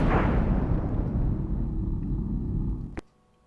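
In the Secret of Evermore video game, a thunderstorm's deep rolling thunder booms loud, then decays over about three seconds. A short sharp crack closes it before near silence.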